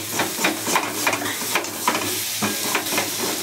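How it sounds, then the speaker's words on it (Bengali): Water poured into a pan of dried loitta fish curry with potato and eggplant, bringing up a steady hiss and sizzle with scattered stirring clinks and scrapes, close and moderately loud, no talk. "এবার আমি জল দিয়ে দেবো"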